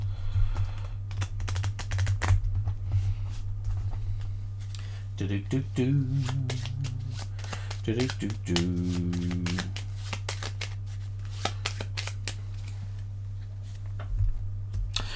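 Cards for the board game Cartographers are riffled and then shuffled by hand, a close crisp run of rapid flutters in the middle of a stretch of quieter handling and tapping.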